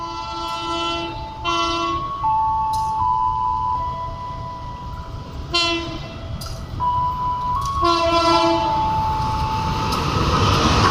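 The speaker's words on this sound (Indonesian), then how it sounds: "kereta api Mutiara Timur fakultatif sudah melintas di stasiun Leces" A Mutiara Timur passenger train rumbles through Leces station while its horn sounds in several loud, two-tone blasts, the rolling noise growing heavier toward the end.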